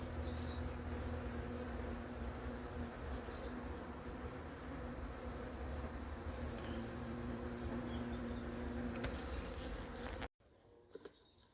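Hornets and bees drone in a dense, continuous buzzing swarm around beehives in summer, steady and close throughout before cutting off abruptly near the end.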